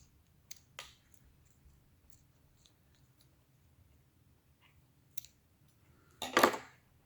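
Scissors cutting ribbon and paper, a few soft, close snips scattered across a quiet room, ending in one louder, longer crunching cut.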